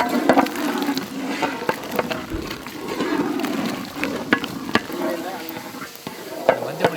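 Okra sautéed with rock salt in a pan during village cooking, sizzling steadily while a spoon stirs and scrapes, with sharp knocks of utensil on pan at irregular intervals, close and fairly loud.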